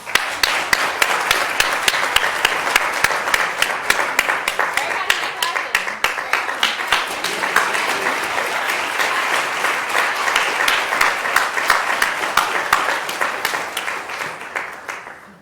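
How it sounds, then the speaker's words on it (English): Sustained applause from an audience at an HBCU 2019 event with a guest speaker, dense and steady clapping that holds for about fifteen seconds before tapering off at the end. "Can we just clap for ourselves?"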